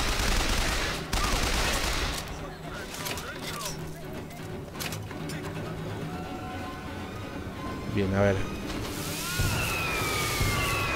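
Fireworks in the video game Bioshock Infinite crackle and pop in a dense burst, with a whistling rise near the end, under someone speaking in Spanish.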